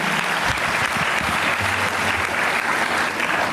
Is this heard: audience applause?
yes